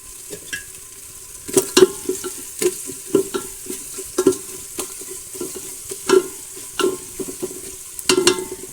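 Onions and slit green chillies frying in a pan, stirred with a spatula: a low background sizzle broken by a series of sharp scraping and tapping strokes at an uneven rhythm, with no talking.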